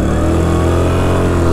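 Trapper 550 vehicle sliding at about 20 km/h, a loud, steady engine roar close by with no talking; the braking does not clearly stand out.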